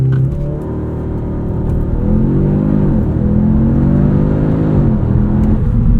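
A 2025 Audi S3 launches hard from a standstill, the engine droning loud and steady inside the cabin as revs climb and dip through quick gear shifts, a continuous close rumble without talk.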